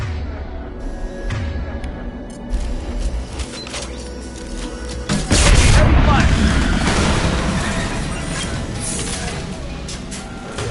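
Tanks blowing up in the Mass Effect 2 video game, a sudden heavy explosion midway that rumbles and decays after mechanical clanks and creaks, with a voice speaking over the action.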